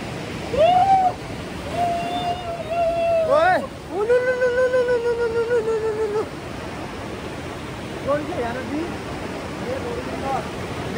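Water of the Dhauli Ganga river rushes in a steady, broad roar beneath loud, drawn-out calls and voices that rise and fall over it.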